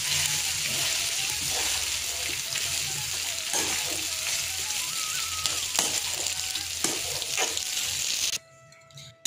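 Cooked rice stirred into hot tempering of fried peanuts and spices in a pan on a switched-off stove, giving a steady, close scraping and soft sizzle with short stirring strokes, then an abrupt drop to quiet near the end.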